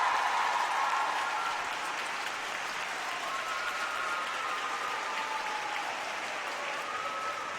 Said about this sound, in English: Standing ovation for Katsuki.